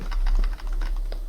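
Quick burst of computer keyboard typing while entering chat in a Minecraft horror map, a run of close, light key clicks with no talking over it.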